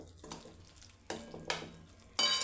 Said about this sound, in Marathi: आता ह्याला चांगलं शिजू देते।